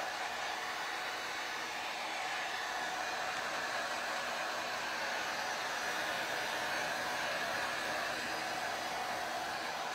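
A hair dryer blows warm air onto a large handmade craft cross, a steady, even broadband whoosh running alone at moderate level throughout.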